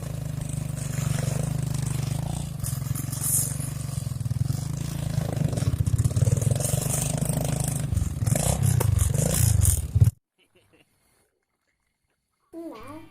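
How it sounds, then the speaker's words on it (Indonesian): A motorcycle ride at night on the way to a camping spot on Mount Manglayang, with a steady loud engine drone and road rumble for about ten seconds before it cuts to near silence. "kami melakukan perjalanan dengan memakai motor"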